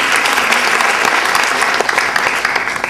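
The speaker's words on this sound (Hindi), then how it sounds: "ताली बजा के स्वागत कीजिएगा" An audience claps steadily to welcome a guest at a talk on Christian marriage, with dense, sustained applause running throughout at a fairly loud level.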